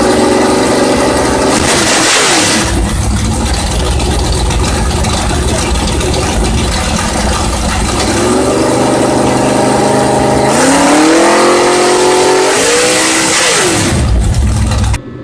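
A car engine idles roughly and is revved hard in repeated bursts, loud and close, with engine pitch sweeping up and down and a voice audible beneath.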